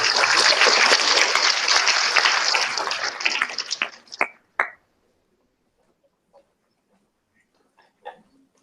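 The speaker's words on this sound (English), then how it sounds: "Please give the applause for her." Audience applause at a conference rises as a close, full patter of clapping for about four seconds, then trails into a few last claps and near silence with faint scattered sounds.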